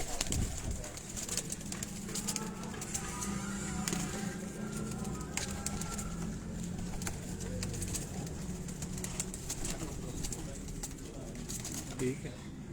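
Low, continuous cooing from rooftop pigeons in Kasur throughout, with steady background noise and scattered clicks and rustles.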